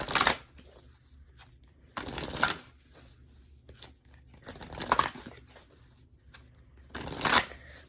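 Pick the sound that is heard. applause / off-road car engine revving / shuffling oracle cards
shuffling oracle cards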